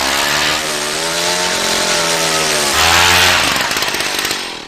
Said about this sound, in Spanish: Cuando el taladro penetra el hielo, el agua del lago sube a su nivel normal.